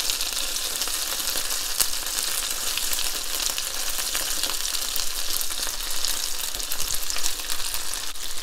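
Thai-style chicken wings frying in a pan, a loud, dense, continuous sizzle and crackle running throughout with occasional sharper spits.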